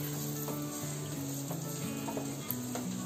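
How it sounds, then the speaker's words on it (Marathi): Finely chopped onion drops into hot oil in a pan and sizzles with a steady crackle, punctuated by light clicks and stirring taps. No talking. "आता आपण त्याच्यामध्ये पहिले कांदा टाकूया."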